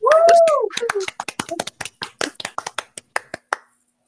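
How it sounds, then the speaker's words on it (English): At a virtual award ceremony, a short voice gives way to sparse, separate claps, roughly a dozen crisp hand claps at an uneven pace over a near-silent background, fading out toward the end. "join me in a round of applause for Bethany Hrachovec"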